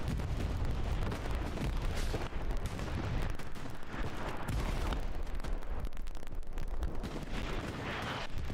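Artillery shells explode continuously during a Hell Let Loose match, a dense, rumbling barrage of loud booms and crackling blasts with no pauses and no voices.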